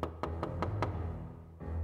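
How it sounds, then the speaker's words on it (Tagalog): Knocking on a back window: five sharp, evenly spaced raps in quick succession, then a short pause and one final knock, close and distinct over a low background hum. "Mahigit kalahating oras pa may kumatok na naman sa likurang bintana."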